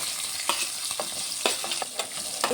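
Onions frying in oil with cumin, mustard and fenugreek seeds, a steady close sizzle with occasional spatula scrapes and stirring knocks, no voices.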